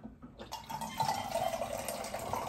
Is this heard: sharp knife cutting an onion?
no